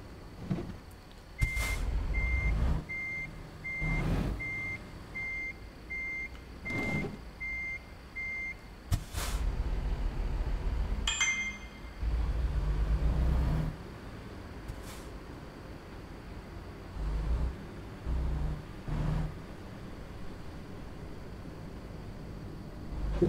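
A truck rumbles along in American Truck Simulator, its low engine drone rising and falling between clunks and hisses, while a steady run of reversing beeps sounds early on and sharp clanks punctuate the drive.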